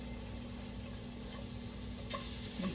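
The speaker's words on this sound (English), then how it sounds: "You can hear it sizzling away already." Steady crackling sizzle of bacon frying in a pan, a soft continuous hiss with faint clinks near the end.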